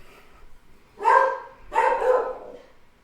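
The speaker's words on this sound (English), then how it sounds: "pardon the dog barking" A dog barks twice in a quiet room, two short, moderately loud woofs about half a second apart, slightly muffled as if from nearby indoors.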